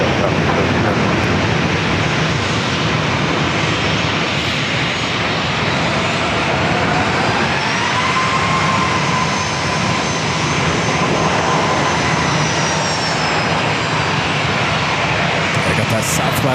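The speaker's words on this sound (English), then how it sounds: "I got that Southwest 737-700 flight heading to Denver" Southwest Boeing 737-700 jet at San Diego airport, heading to Denver, a steady broadband engine roar that holds loud and continuous throughout, with a faint tonal whine drifting above.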